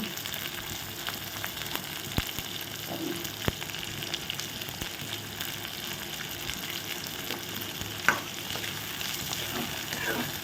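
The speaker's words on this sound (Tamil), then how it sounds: "வெங்காயம் நல்லா வதங்கட்டும்" Small onions sautéing in a pan, with a steady, fairly soft sizzle and occasional stirring taps and scrapes throughout, without any talking.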